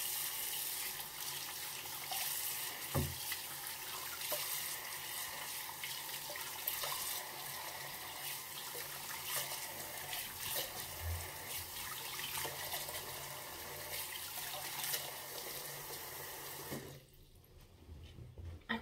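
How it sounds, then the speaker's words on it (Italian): Tap water runs steadily from a faucet while a Foreo Luna Play Plus silicone face brush is rinsed, a faint, constant hiss for most of the stretch before stopping near the end. "sciacquiamo anche il foreo sotto l'acqua"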